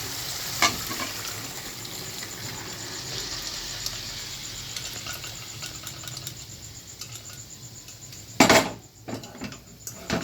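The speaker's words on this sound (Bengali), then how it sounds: "এবার কাবুলি ছোলাটা এবার দিয়ে দেবো চানা" Kabuli chickpeas tipped into well-fried masala in a pan, a steady sizzle with occasional clinks and a sharp clatter and louder burst near the end.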